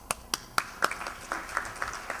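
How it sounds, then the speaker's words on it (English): A short round of clapping for a conference panelist. Several separate claps land at first, then thin, scattered applause follows from a small audience indoors. "You deserve an applause."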